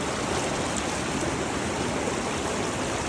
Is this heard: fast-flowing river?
yes